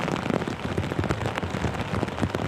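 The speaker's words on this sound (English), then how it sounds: "Lots of rain, lots of water." Heavy rain pelts down during flooding, a loud, dense patter of drops striking surfaces with scattered sharper splats over a steady wash of noise.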